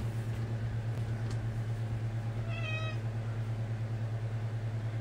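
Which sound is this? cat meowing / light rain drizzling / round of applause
cat meowing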